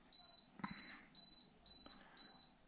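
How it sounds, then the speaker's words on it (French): An unboxed Outback Fury 3 toy vehicle gives off an electronic ringing chime, a high beeping tone repeating in five even pulses, faint clicks and handling noises between them. "C'est pénible cette sonnerie."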